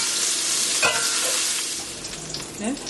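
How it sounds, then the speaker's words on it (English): Chicken pieces fry in hot grease for a lo mein dish, producing a steady, fairly loud crackling sizzle close up, with a brief spoken word near the start. "so our grease is ready, so I'm just going to add in our chicken"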